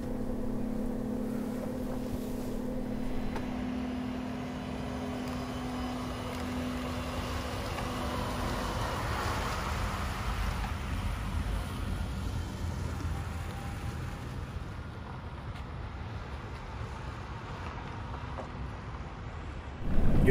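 A Nikola Tre battery-electric semi truck drives along with a low, steady rolling hum, road noise and faint electric whine. The sound is moderate and continuous with no engine roar, and there is a brief louder bump at the very end.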